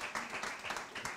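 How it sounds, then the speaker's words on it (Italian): An audience applauds at a poetry award ceremony as a prize winner is honored. The clapping is soft and distant, a steady wash of many hands over about a second. "facciamo un applauso a Teresa Vadalà"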